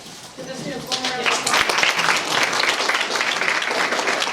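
At a CTE luncheon, an audience applauds students. A voice speaks briefly first, then steady clapping swells and continues at a moderate, even level.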